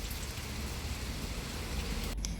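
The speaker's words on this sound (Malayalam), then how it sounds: "അത് കഴിഞ്ഞപ്പോൾ ചെറിയൊരു മഴ പെയ്തു കേട്ടോ" Light rain falling in sunshine, a steady, even patter of drops heard alone and close, with no talk, continuing throughout.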